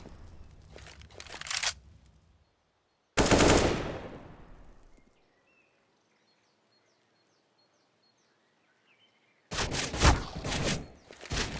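Loud AK rifle fire in the video game Counter-Strike on the Inferno map, three separate bursts of automatic shots with silent gaps between them and faint game sounds in the quiet stretch.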